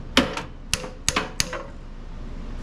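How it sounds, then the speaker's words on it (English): Four or five sharp metallic hammer strikes on a carburetor part of a Craftsman snow blower, close and distinct, spaced irregularly with brief ringing after each hit and no talk. "then you hit the edge just with a hammer"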